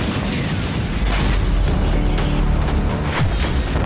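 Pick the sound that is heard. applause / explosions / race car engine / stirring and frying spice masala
explosions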